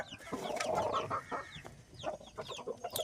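A mother hen and her chicks cluck and cheep in a farm coop, a busy, moderately close mix of soft clucks and high peeping calls with no talk.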